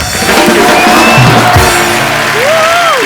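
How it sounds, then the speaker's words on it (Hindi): Studio audience at a comedy talk show cheering and whooping loudly, a dense crowd roar with shouts and whistles throughout. "जोरदार तालियां ऋतिक रोशन, आशुतोष गोवारीकर एंड पूजा के लिए।"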